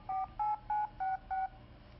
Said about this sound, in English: and Newton would actually dial the phone.